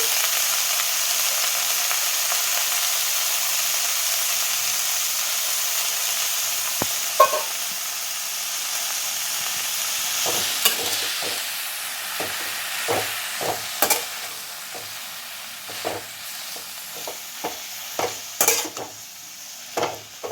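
Mint, coriander and curry leaves fry in a pan with a steady sizzle, while a utensil stirs them in irregular scraping knocks that grow more frequent toward the end; no one speaks.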